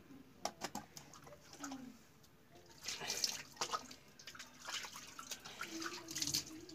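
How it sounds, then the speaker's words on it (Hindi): Dirty water is poured down and splashes while something is washed, making irregular sloshing and dripping splashes in bursts, close but fairly quiet. "नीचे पानी गिराते हैं गंदा पानी ना हो जाए ना"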